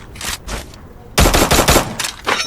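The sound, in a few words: gunfire in a video game match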